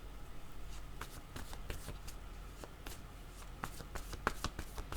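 A deck of cards shuffled for a card reading, with close, crisp riffling and flicking bursts repeating unevenly over a few seconds, no talking.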